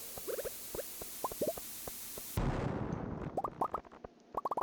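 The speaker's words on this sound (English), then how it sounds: "we'll place this bomb and then we'll get it" A bomb blast in the Stardew Valley video game: one sudden, broad burst midway, set among quick, plopping game sound effects before and after.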